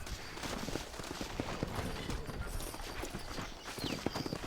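Horse hooves clop in a rapid, steady galloping rhythm while riding in the Red Dead Redemption video game. The hoofbeats are faint and continuous against dense game noise.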